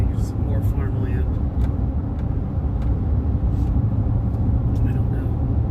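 A car driving along a road through farmland, a steady engine and road rumble heard from inside, with a person talking over it.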